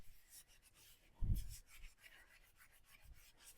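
Scrubbing a vintage Pyrex glass dish with Bar Keepers Friend cleanser, a soft gritty rubbing that swells into one louder scrape in the middle and continues faint and steady throughout, with no talking.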